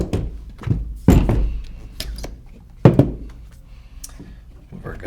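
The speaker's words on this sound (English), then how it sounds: "Let's pull the bolts out." Mechanical thunks and clicks from a Dye M3S paintball marker as its bolt is pulled out, a few sharp knocks spread over the clip with handling noise between them, close up and fairly loud.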